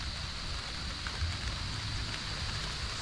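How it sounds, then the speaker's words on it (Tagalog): Steady rain falls on a farm plot as a continuous, even hiss with a faint low rumble underneath, no voices. "Ayun yung ulan."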